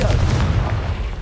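A Confringo fire spell explodes in the video game Hogwarts Legacy, a loud, dense, low-heavy boom that sustains briefly then tapers, with no speech over it.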